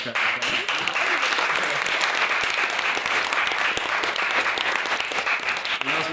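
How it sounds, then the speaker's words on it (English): A crowd applauds steadily and loudly for several seconds, a dense wash of clapping with no pause. "So I'd like to give another round of applause."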